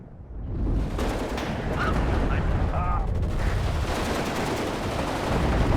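Dense, continuous battlefield gunfire from machine gun teams and grenade launchers in the WARNO real-time strategy game, a loud sustained roar of overlapping bursts and booms with no pauses throughout.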